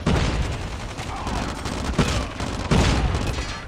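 A Pharo SMG in Call of Duty Mobile fires nonstop, with dense automatic shots forming one loud, unbroken rattle and a few sharper cracks standing out.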